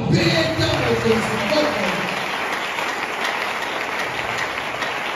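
A church congregation breaks into sustained applause, a loud, dense wash of clapping that starts strong and holds steady throughout, with a voice heard briefly at the start.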